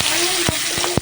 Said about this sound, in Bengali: এবার এই যে মাছের তেলের মধ্যে তেজপাতা দিয়ে দিলাম কিছুটা